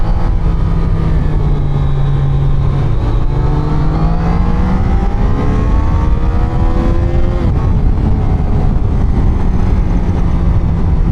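A Triumph Daytona 660 motorcycle engine revs loud and close, its pitch climbing and falling through several throttle blips over a steady running drone, with no voices.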